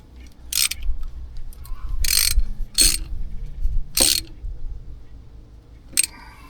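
A ratchet tightening a fitting on the injection pump of a Caterpillar D4 tractor during repair, with several sharp separate bursts of close, loud clicking over a low rumbling background and no talk.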